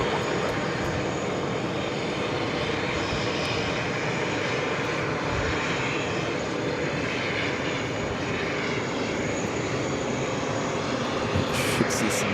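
Delta Airbus A220-300 jet engines at JFK airport in New York, a steady, loud broadband roar that holds unbroken throughout, close by and with no talking over it.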